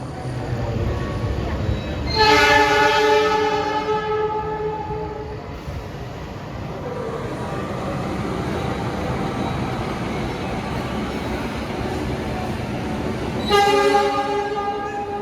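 A passenger train, the Sancaka from Surabaya to Yogyakarta, rumbles past steadily, its horn blaring loudly twice, once early and once near the end, over continuous wheel and engine noise.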